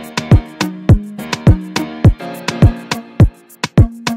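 Several layered log drum patterns play together in an afrobeat-style dancehall groove, a dense run of punchy pitched low hits in steady syncopated rhythm, loud and alone with no talking.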